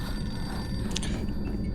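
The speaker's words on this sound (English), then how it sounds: "Yeah, phone's ringing" A telephone ringing inside the video game Silent Hill 2, a faint electronic ring over a heavy, low rumbling game background, brief and partly masked.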